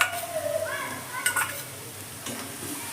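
Spoon stirring mashed boiled potato into soybean and tomato in a pan, with soft scraping strokes over a steady low sizzle, close and fairly quiet, no talking.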